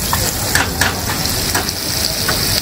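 Gitali frying in a pan with a loud, continuous sizzle and crackle, plus a few scraping stirs, close up, with no one talking.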